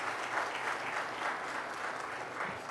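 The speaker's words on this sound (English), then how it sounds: "Can we have a warm round of applause, please?" Warm, sustained applause from a conference audience welcoming India's External Affairs Minister, even and continuous clapping with a soft, slightly distant hall sound.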